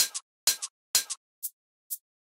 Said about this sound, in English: The next thing that we have here is this main hi-hat